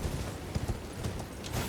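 A horse's hooves clip-clop on a road in an irregular walking rhythm, fairly close and soft against faint outdoor background noise.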